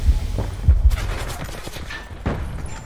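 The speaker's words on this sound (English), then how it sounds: "I don't know where they're shooting from" A gunfight in a video game brings bursts of shots, a few sharp booming reports up front, then scattered rapid fire and thuds, fairly loud with no speech.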